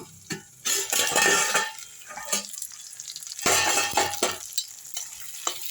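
Eggplant sautéing in a pan for a ground-masala curry, with a steady soft sizzle broken by sharp scraping stirs and clinks of a spoon against the pan, close and fairly loud.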